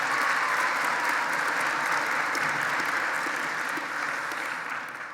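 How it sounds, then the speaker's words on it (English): An audience at a Bow Valley High School convocation ceremony gives a sustained round of applause, a dense, even roar of many hands that tapers slightly at the end, with no talk over it. "Let's give them a round of applause."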